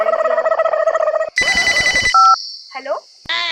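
Telephone tones and electronic ringing beeps sound in a Chhattisgarhi comedy drama scene: a steady tonal buzz, then a brighter tonal burst, short beeps, and chirping tones, with a voice heard among them.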